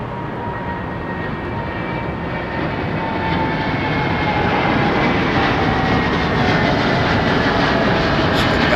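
A Boeing 777 airliner lining up on the runway at London Heathrow, its jet engines a loud, steady roar that slowly builds in strength, heard alone.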